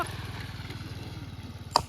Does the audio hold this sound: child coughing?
no